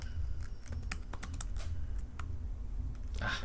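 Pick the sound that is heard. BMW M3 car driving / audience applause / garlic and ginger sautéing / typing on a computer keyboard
typing on a computer keyboard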